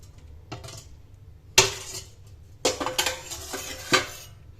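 A spatula scraping and knocking against a pot of hot mutton curry, a few sharp metallic clinks and scrapes in short clusters over quiet background, with no voices.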